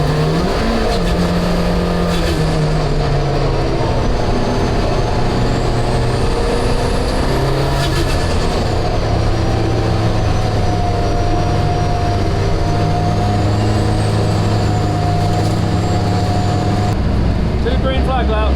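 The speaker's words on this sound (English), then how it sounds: "They are rolling here at Donington on the formation lap." A pack of more than 30 race cars rolls around Donington on the formation lap, a loud, continuous engine rumble with shifting whines and occasional revving, heard under a commentator's voice.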